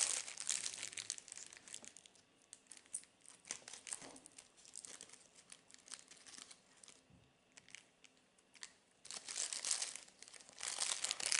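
Birchbox beauty subscription packaging being opened, with bursts of crinkling wrapping and rustling paper coming close and loud in clusters, quieter handling between, and no voices.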